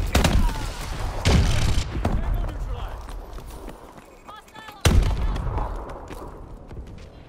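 Missile strikes in Call of Duty: Advanced Warfare land as several loud, sharp explosive blasts spaced a few seconds apart, each trailing into rumble, while a voice talks over the battle.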